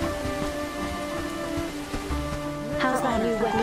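Steady rain falls in the medieval village-building video game Bellwright, a constant patter under a layer of music-like tones. A voice speaks briefly over it near the end.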